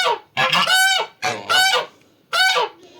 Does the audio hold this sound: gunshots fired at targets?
no